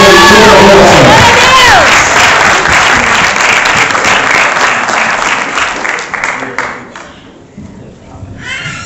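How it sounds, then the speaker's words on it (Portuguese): A congregation applauds during a church service in Peterborough, a loud dense burst of clapping and cheering up close that gradually thins and fades toward the end, with voices mixed into the crowd. "nós vamos com muita alegria no coração aplaudir ao Senhor Jesus Cristo"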